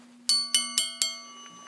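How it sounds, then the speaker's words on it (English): An old telephone bell set up as a working pager system rings in four sharp metallic strikes, each leaving a bright decaying shimmer, followed by a fainter tap as the ringing fades, close and loud over a low steady hum. "I'm trying to get a good ring out of that for you guys."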